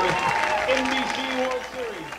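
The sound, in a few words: home crowd cheering after final strike of baseball game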